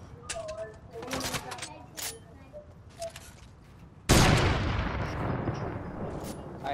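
Fortnite gunfire in a squad match, with sharp shots cracking in an irregular rhythm, then a loud sustained burst of fire or explosion noise near the end, while players talk over it.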